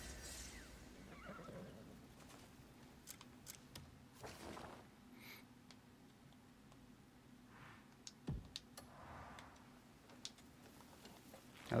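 A horse whinnies in the Crimson Desert video game, faint and mid-distance, with scattered clip-clop hoof ticks and a quiet ambient bed around it.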